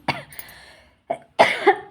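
A woman coughs in three separate bursts, a longer one first, then a short cough and a harsh two-part cough close to the microphone, each with silence between.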